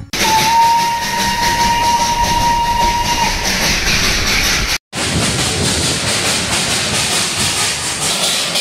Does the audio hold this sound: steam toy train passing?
yes